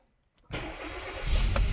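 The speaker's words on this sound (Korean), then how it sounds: "엔진 시동 소리 끝내줍니다." A Kia K3 (The New K3) petrol car engine cranks and fires up after a brief quiet moment, then settles into a steady, close idle that swells slightly louder toward the end, with no talking.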